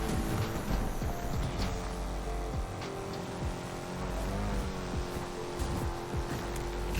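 Mercedes-AMG C63 Coupe engine in the Need for Speed video game, a steady low grunting drone held through gear changes, with a brief rise in pitch midway, loud and continuous with no talk.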